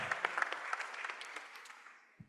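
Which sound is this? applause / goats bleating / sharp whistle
applause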